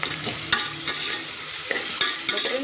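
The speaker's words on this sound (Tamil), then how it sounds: "இப்போ பார்த்தீங்கன்னா ஆனியன் கட் பண்ண வச்சுக்கிறத போடுறோம்." Cut onions go into hot oil and fry with a bright, crackling sizzle, broken by several sharp clinks of a stirring spoon against the pan.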